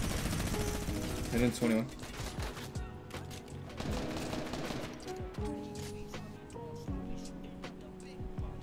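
Bursts of gunfire from a Fortnite Mobile tournament match, rapid overlapping shots early then scattered single cracks, mixed with game sound effects and a player's voice speaking over the action.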